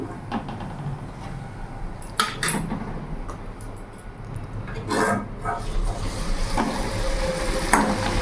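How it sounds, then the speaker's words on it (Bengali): Taal luchi, palm-fruit flatbread for Janmashtami, fries lightly in a pan with a steady close hiss of oil, broken by sharp metallic clinks and scrapes of a utensil against the pan. "এইভাবে তোমরা হালকা হালকা করে ভেজে নেবে।"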